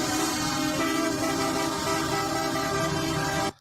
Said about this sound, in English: That honking is loud.